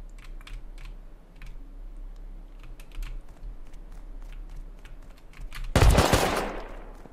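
Gunfire in the video game Rust: a loud, sharp burst of shots near the end, over a steady background of rapid keyboard typing and clicking.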